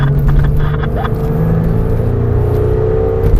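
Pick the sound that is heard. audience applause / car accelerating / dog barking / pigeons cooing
car accelerating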